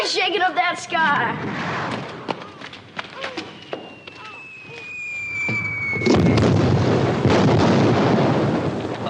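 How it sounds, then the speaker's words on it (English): Cannon fire booms in a 1960s Western drama, sharp blasts scattered through talk and a sustained roaring barrage that swells near the end. "That ain't thunder, that's cannon fire."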